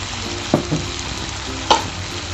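Chicken pieces and potatoes fry in a pan with a steady, even sizzle, broken by a few sharp knocks and scrapes of stirring; no one speaks.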